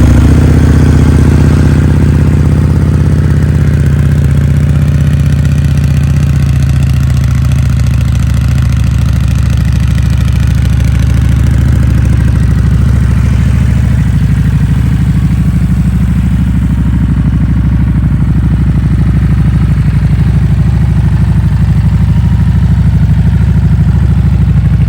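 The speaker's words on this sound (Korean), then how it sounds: "통통거리는 배기음이 참 일품이라고 생각을" A Harley-Davidson Street Rod motorcycle idles close by, its engine giving a loud, steady, throbbing exhaust rumble that carries on unbroken with no voices over it.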